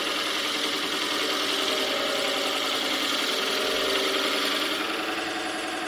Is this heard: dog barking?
no